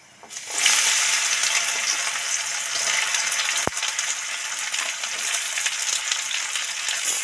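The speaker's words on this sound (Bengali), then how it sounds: "চিচিঙে একটু 2-4 মিনিট আলাদা ভেজে নেব" Snake gourd frying in hot oil with panch phoron and dried chilli: a loud, steady sizzle that bursts up after a quiet start and holds throughout, with one sharp utensil click midway.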